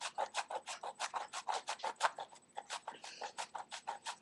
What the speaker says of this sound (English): you're just going to grate your soap to make a fourth cup of soap